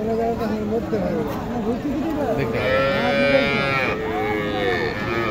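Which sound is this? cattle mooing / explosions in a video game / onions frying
cattle mooing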